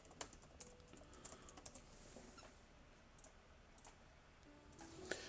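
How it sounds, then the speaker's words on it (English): Keys on a computer keyboard clatter in quick irregular bursts, near and fairly quiet, with a few louder clicks and short pauses and no voices. "I'm going to type this where it should be."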